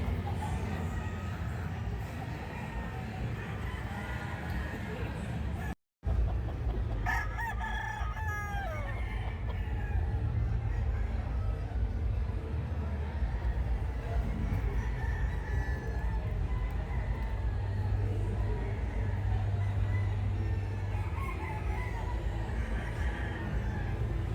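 Roosters crow repeatedly at a fiesta fair booth over a steady crowd murmur and low rumble, with a brief dropout near the start; calls overlap at moderate distance.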